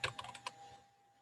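Several quick keystrokes on a computer keyboard, typed in a short burst of about five taps over half a second, then fading into quiet room tone with a faint steady hum in the background.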